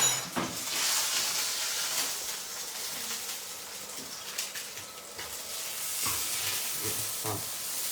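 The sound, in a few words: sea bass, endive and potatoes sizzling in frying pan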